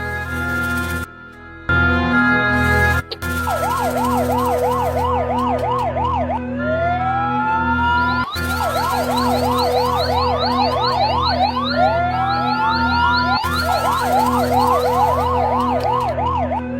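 A Rescue 1122 ambulance siren in Mansehra wails loudly and close by, cycling through rapid yelping sweeps and long rising wails over a steady engine hum, with brief pauses between bursts.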